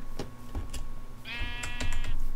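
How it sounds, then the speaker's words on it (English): A sheep bleats once in a Minecraft-style video game, a short wavering call over soft clicks and background game noise. "Oh, I'm sorry, sheep. I just, like, hit you."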